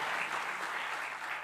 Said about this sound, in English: Big round of applause for this beautiful city.